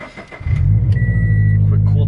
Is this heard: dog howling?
no